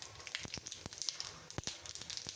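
Mustard seeds crackle and pop in hot oil, a faint, steady sizzle broken by frequent sharp little spits and snaps.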